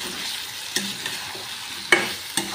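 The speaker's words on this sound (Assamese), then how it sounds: "লৰাই চাইছোঁ ৰ'ব" Local chicken being stirred as it fries in oil in a pan: a steady sizzle with a few distinct scraping stirs, close by and alone.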